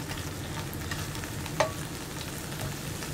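Coriander leaves are stirred in hot oil in a pan for a tomato chutney, a continuous close sizzle with light stirring scrapes and one sharp utensil tap midway.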